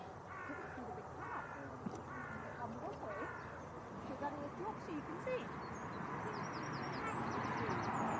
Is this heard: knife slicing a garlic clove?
no